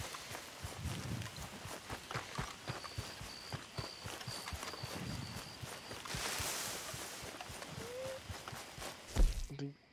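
A horse walking in the video game Red Dead Redemption 2, soft rhythmic hoof clip-clops at a steady pace, fairly quiet, with faint background ambience and a brief tonal chime near the end.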